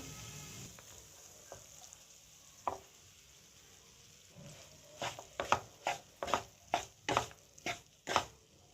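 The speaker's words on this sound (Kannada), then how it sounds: "ಈಗ ರೈಸ್ ಮಿಕ್ಸ್ ಮಾಡ್ಕೊಂಬಿಡೋಣ" Cooked rice being stirred and mixed into vangi bath in a pan, sparse soft scrapes at first, then a quick run of about ten sharp, close spoon-against-pan knocks, no talking.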